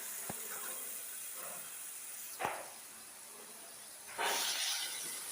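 Tomato paste hits a pan of half-cooked, coarsely chopped onions and capsicum for chili fish, giving a quiet steady hiss that swells into a louder, fuller sizzle near the end.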